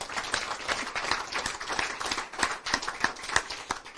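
An audience at a community gathering applauds, the claps dense and steady throughout without a voice over them.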